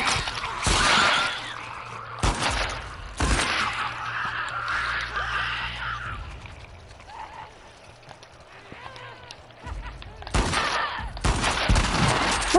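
Gunfire in The Last of Us Part 2 video game, a few loud, broad bursts of shots breaking through tense game ambience, with a player talking between them.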